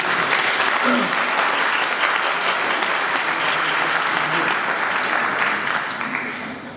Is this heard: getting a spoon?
no